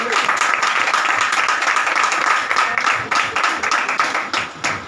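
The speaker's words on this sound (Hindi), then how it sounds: "आप जितनी मोहब्बत करते हैं भाई के लिए उतनी तालियां" A church congregation applauds loudly and steadily at a Palm Sunday service, a dense wash of many hands clapping close by that thins slightly toward the end.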